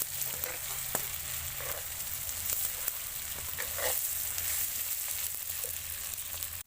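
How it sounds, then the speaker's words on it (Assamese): Meat and potatoes seasoned with turmeric fry steadily in a pan, a continuous close sizzle with occasional faint stirring taps, no voices. "আলুখিনিও মই দি লৈছোঁ, আৰু এতিয়া মই এইখিনি ভালদৰে ফ্ৰাই কৰি ল'ম।"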